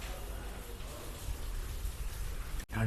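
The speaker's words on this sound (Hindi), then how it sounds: "कल से इधर बारिश हो रही है, देख रहे हो।" Steady rain falls through a cold spell, a continuous dense patter on surfaces close by, loud and unbroken before a brief dropout at the very end.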